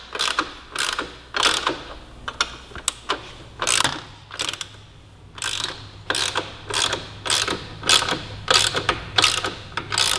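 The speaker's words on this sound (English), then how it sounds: "So what we'll do is we'll just effectively just run the nuts off. the end of the bolt" Ratchet running nuts off a motorcycle rear shock bolt on a Yamaha R3: close, loud bursts of rapid clicking in a steady series of strokes, with short pauses between them and no talk.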